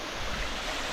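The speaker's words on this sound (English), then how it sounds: "there's a waterfall on Trail 16." A waterfall on Trail 16 at Windrock, a steady broadband rush of falling water, fairly loud and continuous with no voices.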